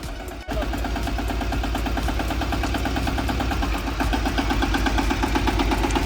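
A 2025 Ravindra mini tractor engine catches and settles into a steady, loud, close idle with an even rapid diesel-like chug throughout.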